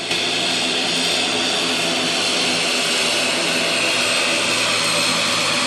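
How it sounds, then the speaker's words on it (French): A plane carrying the Malian prime minister lands at Ouagadougou international airport, a loud, steady jet engine roar that fills the whole stretch without a break and with no voices. "Premier ministre malien Choguel Kokala Maïga atterrit sur le tarmac de l'aéroport international de Ouagadougou."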